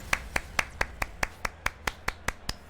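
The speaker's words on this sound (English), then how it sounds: "Golf clap for that trip." A single person gives a slow golf clap, twelve crisp, evenly spaced claps of the hands in a steady rhythm. Each clap is close and clear, with near silence between them.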